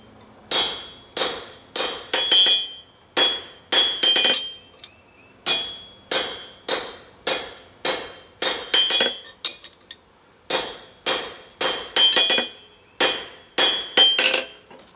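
Hot steel tongs hammered on a German-style anvil, loud close ringing metallic strikes in quick bursts of two to four blows with short pauses between, each hit leaving a bright clang.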